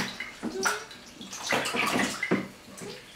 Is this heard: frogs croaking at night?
no